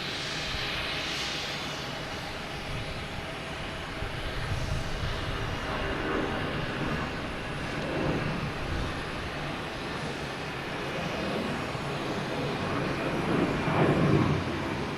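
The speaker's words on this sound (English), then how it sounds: "Coming in is American Airlines coming in from Miami." An American Airlines airliner arriving from Miami on approach to land at Boston Logan, its engine roar a steady broadband rumble that swells gradually toward the end, heard from a distance outdoors with no talking.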